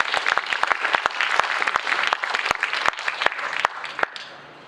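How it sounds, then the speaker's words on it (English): Audience applause at a poetry recital contest award announcement: a burst of distinct claps, fairly close and lively, that thins out and fades at the end. "I hope she can hear the clap."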